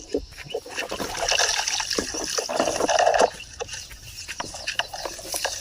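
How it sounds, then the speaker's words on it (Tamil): Close, irregular wet slurping and sloshing as a cow draws water up from a tub in gulps, with small splashes in between. "இந்த மாடு ஃபாஸ்ட்டாக தண்ணி குடிக்கிறானா"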